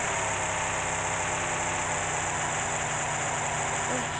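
Car engine in the mobile game PUBG Mobile drones steadily while driving, a continuous loud hum with rough vibration and no gaps.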